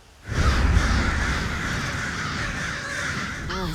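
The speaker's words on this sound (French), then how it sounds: "L'histoire du corbeau, utiliser le corbeau." Crow cawing in a video game, a harsh, close, loud rasp sustained for a few seconds with no talking.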